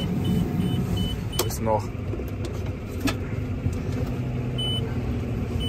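A Case IH tractor pulls away while drilling wheat, its engine a steady, close rumble throughout as a person talks over it.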